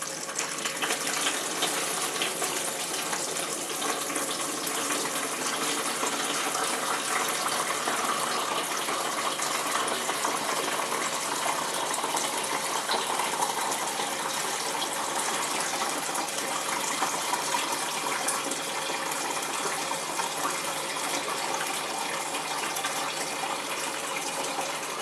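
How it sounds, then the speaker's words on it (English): Blackberry red wine pours in a steady gushing stream, splashing continuously into a container for a long stretch with no speech. "This is splashing a little bit, so I'm going a bit too fast."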